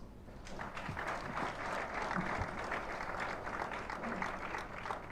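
Steady applause from a large audience at a centenary ceremony in Tamil Nadu attended by the Chief Minister, sustained and even throughout, with faint voices mixed in.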